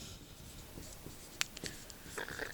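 Chalk or marker writes on a board during a maths lesson with quiet, faint scratching and rubbing strokes, one sharp tap partway through, and no one speaking.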